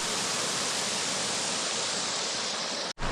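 A waterfall pours into a mountain stream beside a campsite, a steady loud rushing roar that cuts off abruptly near the end.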